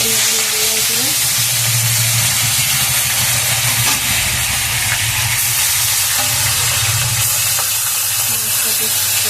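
Shankar fish (stingray) pieces hiss in hot oil, a loud, constant, roaring sizzle that stays close for the whole stretch, with a low hum running beneath it.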